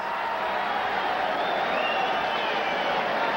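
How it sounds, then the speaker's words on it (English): A boxing arena crowd at the Julio Cesar Chavez vs. Jose Luis Ramirez world lightweight title fight roars continuously, a dense distant wash of cheering with a commentator's voice running underneath. "a roar goes up for the crowd for all the overbetters"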